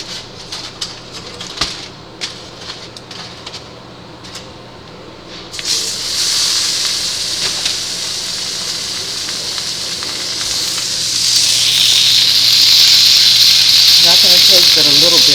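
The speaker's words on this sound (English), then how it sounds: "Now we're getting ready to sear it." A reverse-seared tri-tip steak hitting a hot cast iron skillet, a loud, steady sizzle and hiss that starts abruptly and builds after some quieter kitchen clatter and talk.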